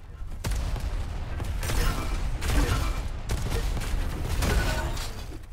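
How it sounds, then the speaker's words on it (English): Repeated shotgun blasts from a competitive multiplayer video game match, coming as loud broadband bursts roughly every second over a dense, continuous backdrop of gunfire and game noise. "Nice shotgun."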